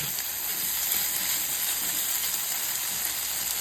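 Sliced onions frying in a pan, a continuous bright sizzle and hiss held steady and close, with no voices over it.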